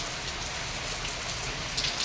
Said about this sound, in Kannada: ಫುಲ್ ಮಳೆ ಬರ್ತಾ ಉಂಟು